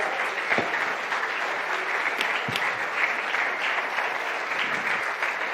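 A seated congregation at a Sunday morning church service applauds, with steady, dense clapping and a few louder individual claps standing out, continuing evenly throughout.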